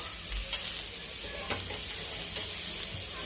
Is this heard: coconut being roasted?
yes